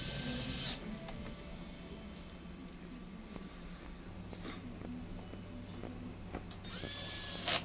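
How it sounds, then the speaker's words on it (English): A power screwdriver whirs in short, repeated bursts as Torx 15 screws are driven back into a dishwasher door, sharp close buzzes separated by quiet handling. "we're just putting all those screws back in. These are Torx 15 screws"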